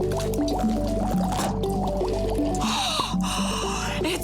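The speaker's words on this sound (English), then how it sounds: "It's bubbling!" Blue liquid bubbling and fizzing in a container during a live demonstration, a steady wet gurgling and popping that continues across the clip alongside background tones.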